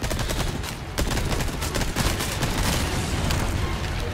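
Dense, rapid gunfire and booming shots rattle without pause in Resident Evil 4 combat, loud and continuous with scattered sharp bursts.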